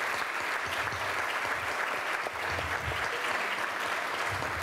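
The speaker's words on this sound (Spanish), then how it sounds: "También pido un aplauso para el Instituto del Profesorado." A university lecture-hall audience applauds steadily for nearly five seconds, a dense, even wash of clapping that fills the room without pause.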